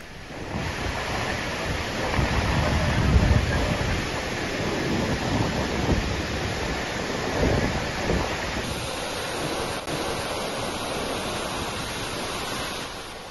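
Floodwater roaring from five opened dam gates on the Krishna river, releasing about 61,000 cusecs, a steady, dense rushing roar that runs unbroken throughout, with no voices.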